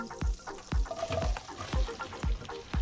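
Chopped onion drops into melted butter in a saucepan over medium heat with a soft steady sizzle, while several dull low thumps from a spoon or the pan land at a regular pace, close by and without speech.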